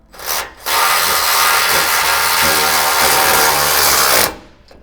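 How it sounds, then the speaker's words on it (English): A power tool runs loud and close while tightening a bolt on a Toyota 4Runner front bumper, a short blip followed by a steady, harsh whirring burst of about three and a half seconds that cuts off abruptly, with no talking. "I'm gonna go ahead and use my tool and just tighten it down"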